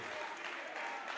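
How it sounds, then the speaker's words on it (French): Audience at a Congolese gospel contest semi-final applauding contestant number 12, a dense continuous wash of clapping filling the room, steady and fairly loud. "Est-ce qu'on peut applaudir encore une fois de plus pour les candidats numéro 12?"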